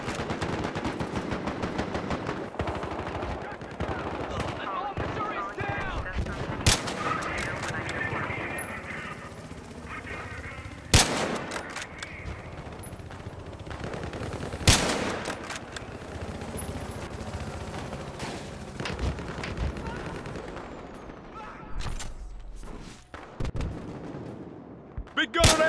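Heavy vehicle-mounted gun on an SUV firing in the Battlefield Hardline video game, loud repeated booming shots with sharp blasts standing out amid continuous gunfire and battle noise.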